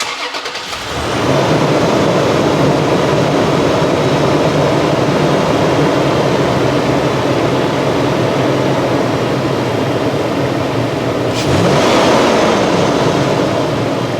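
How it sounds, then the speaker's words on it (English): A Toyota 4Runner SUV engine idles steadily and loudly after starting, a constant low rumble with a brief revving swell near the end. "would you guys want to hear how this engine sounds like?"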